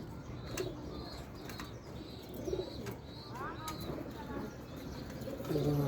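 Pigeons coo softly in a loft where birds sit on eggs, the low warbling calls recurring amid steady background noise, a few wingbeats and rustles.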